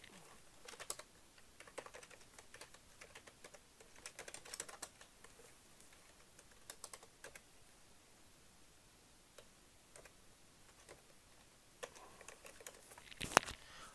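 Keys tapped on a computer keyboard while entering an email address and password to log in, sparse clusters of light clicks with pauses, quiet and close, no voices.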